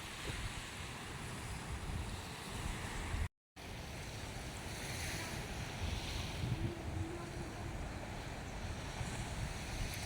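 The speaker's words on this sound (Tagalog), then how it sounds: "Ganito pala ang alon dito pag nalakas na maigi." Strong waves churn on a lake in a constant loud rush, mixed with heavy wind buffeting the microphone and a brief dropout partway through; no voices.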